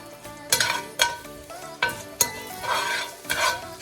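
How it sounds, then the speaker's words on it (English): Whole spices, cardamom, curry leaves, cloves and mustard seeds, sizzle in hot oil in a pan while being stirred, with sharp scraping strokes every second or so over a steady frying hiss, close and moderately loud, no talk. "we're going to go in with our mustard seeds. So once that's all in there, give it a little stir."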